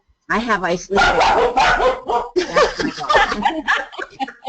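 An Icelandic sheepdog barks in short bursts close by while a person keeps talking over it throughout.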